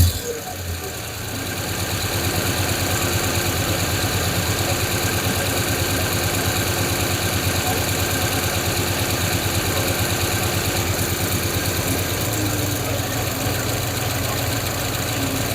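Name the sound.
5.7 Hemi engine idling with carburetor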